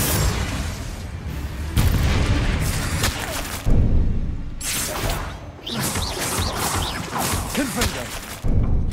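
Confringo fire spell blasts from Hogwarts Legacy, a run of loud crackling bursts and booms with whooshing tails, dense and close, over busy game combat noise and some voice.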